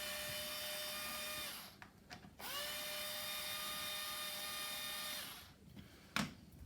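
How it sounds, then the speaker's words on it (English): A power driver with a six-pointed star bit backs a screw out of a Babyzen Yoyo stroller wheel. It whirs steadily and fairly quietly, pauses briefly twice and ends with a small click. "Just going to unscrew this screw."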